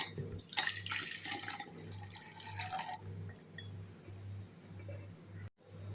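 Water is drained off boiled peanuts from a pressure cooker, a brief splashy pour followed by faint trickling and drips over a low steady hum.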